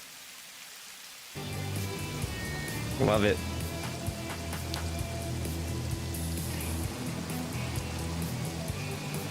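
Rain falls steadily in a factory-building video game, a soft continuous patter with faint drips under ambient tones, while a voice talks briefly over it.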